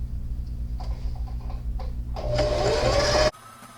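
A sewing machine whirs in short bursts, then runs steadily and louder for about a second before stopping abruptly, close by.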